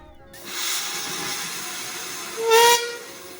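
A steam train hisses steadily at a distance, then gives a short high whistle blast near the end.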